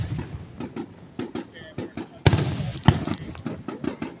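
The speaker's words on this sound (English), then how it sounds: "Exploding fireworks, making smoke polluting the air." Independence Day fireworks bursting in a string of sharp pops and thuds, with two louder booms near the middle, while people talk and exclaim throughout.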